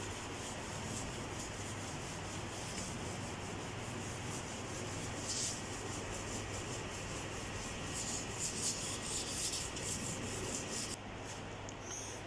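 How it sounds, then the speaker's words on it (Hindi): Sandpaper rubbed over the surface of a fiberglass door to roughen it, making a continuous, close, dry scratching hiss that runs steadily with slight rhythmic strokes throughout and no talking. "इसलिए इसको हम थोड़ा सा रेगमाल लगाएंगे ताकि ये ज़रा रफ़ हो जाए"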